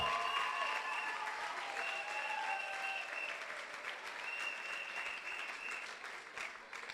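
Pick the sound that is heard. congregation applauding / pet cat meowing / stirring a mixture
congregation applauding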